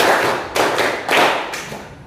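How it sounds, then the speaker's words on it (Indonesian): Group hand clapping in a classroom coaching session, four loud bursts of many hands landing in steady rhythm, each a dense broadband crackle with no talk between. "Tepuk satu. Tepuk dua. Tepuk tiga. Tepuk empat. Tepuk lima."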